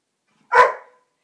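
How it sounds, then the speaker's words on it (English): A single short, sharp bark from a playful dog at a non-kennel dog boarding home, close and loud, with silence before and after. "Don't bark."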